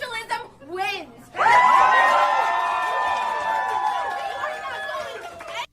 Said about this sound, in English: They're cheering on.